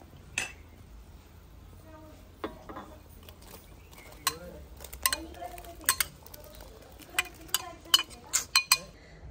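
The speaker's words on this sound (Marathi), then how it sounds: "त्यात आता बोंबील टाकून घेऊ." Bombay duck fish goes into a simmering curry and is stirred in a pot at close range. A spoon clinks and scrapes against the metal in scattered bursts that grow busier toward the end, over a faint low background.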